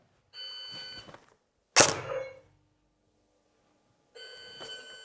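Electronic beeps from a laser target system: a short tonal beep, a sharp impact-like hit, then another beep after a pause, close and clear with nothing else around.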